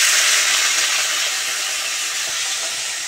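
Vegetables hit hot oil already tempered with green chilies and five-spice seeds, giving a loud, close, broadband sizzling hiss that starts strong and eases slightly over three seconds, with no speech.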